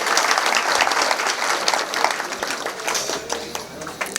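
An audience at an ashram gathering breaks into loud, sustained applause for an honoured elder, many hands clapping densely and close, tapering slightly toward the end.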